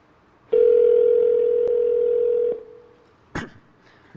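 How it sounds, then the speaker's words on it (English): The first iPhone, from 2007, places a call and plays a steady tone for about two seconds, followed by a short sharp click and faint further sounds, with no talking. "I'll call his mobile number right now."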